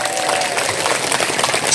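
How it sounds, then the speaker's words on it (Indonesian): Audience applause at a religious study gathering in Indramayu, a dense wash of many hands clapping steadily with crowd murmur, loud and close, filling the whole short stretch. "Tepuk tangan dulu dong."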